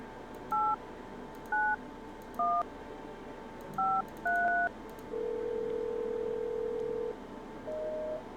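Telephone keypad tones dialed in the video game No, I'm Not a Human: five short paired beeps in an irregular rhythm, then a long steady tone and a shorter one, clear and close over faint background hum.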